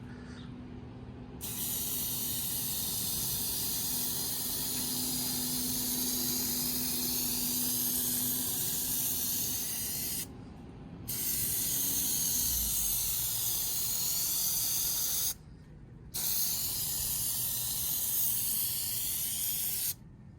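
Black spray paint hisses onto the grille of a Chevy Tahoe PPV in long, loud, close bursts, with brief gaps between passes and no talk.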